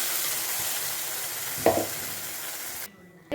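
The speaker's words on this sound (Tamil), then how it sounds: "கொஞ்சமாக கடுகு பொரிஞ்சோடனே கொஞ்சமாக கருவேப்பிலை பொரிஞ்சோடனே நம்ம அரைச்சி வச்சுருந்த மசாலாவை எடுத்து ஆட் பண்ணிடலாம்." Ground masala paste sizzles in hot oil with popped mustard seeds and curry leaves for sundavathal kulambu, a steady frying hiss with a stirring scrape partway through before it cuts off, no talk.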